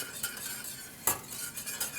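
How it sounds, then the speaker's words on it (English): Black pepper whisked into a beer cheese sauce, quiet rhythmic whisk strokes against a pot with one sharper clink, soft and close with no talk. "Do a little bit of black pepper. Okay, whisk that in."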